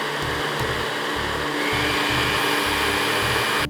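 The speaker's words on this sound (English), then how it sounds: "Now that my soup is blended and smooth" Blender whirring through cooled Egyptian lentil soup, a loud steady motor drone with a pulsing low chug throughout, close up and alone.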